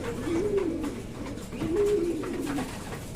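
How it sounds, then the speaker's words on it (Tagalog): Breeding pigeons coo nearby in two soft, rolling phrases, low and close, with faint background rustle. "Ito yung best bird natin."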